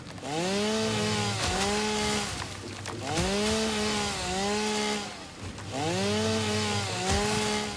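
A chainsaw in the video game Satisfactory revs up and down in three loud whining cycles as it chops trees, each pass rising in pitch and then dropping away.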